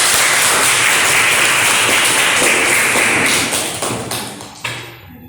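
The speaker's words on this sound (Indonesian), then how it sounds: "Tepuk tangan." A Grade 10 IIS 1 class claps together in a sustained burst of dense, loud clapping that tapers off and fades toward the end.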